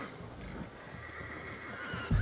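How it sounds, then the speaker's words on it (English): Miocene horses in the video game Ancestors: The Humankind Odyssey whinny and neigh faintly at a distance over a low ambient game soundscape, ending with a sudden low thump. "Miocene horses."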